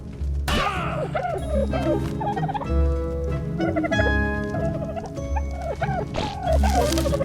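Dodo bird in the video game ARK letting out loud, rapid gobbling, clucking calls in repeated bursts over a constant low game background rumble.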